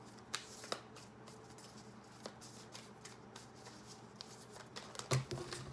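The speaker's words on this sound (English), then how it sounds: "Let me reshuffle." Tarot cards shuffled by hand in short riffling bursts and soft flicks, quiet and close over a steady low hum, with a few sharper snaps near the end.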